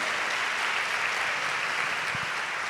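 A church congregation gives a steady, even round of applause at a sermon, a dense wash of clapping from a sizeable crowd heard from a distance, with no voices over it.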